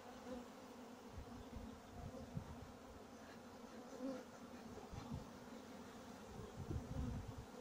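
A steady, low hum of many honey bees buzzing close by at beehives during honey harvest, with individual insects swelling louder as they pass; no voices.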